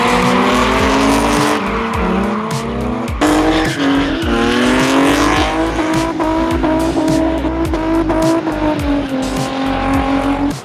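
Drift cars at a drifting event slide with long, loud tire squeal and roaring revving engines, pitch sweeping up and down continuously for the full stretch, no voices.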